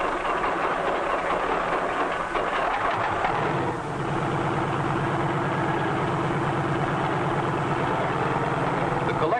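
A 1953 helicopter engine runs steadily through its warm-up with a dense, loud mechanical drone, and its pitch and texture shift slightly partway through as the rhythmic throb settles into an even idle.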